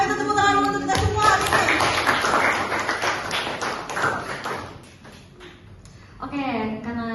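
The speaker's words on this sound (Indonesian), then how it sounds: "Ayo kita tepuk tangan untuk kita semua." An audience at a business seminar breaks into applause, a dense wash of clapping that swells and then fades, with talking heard before and after it.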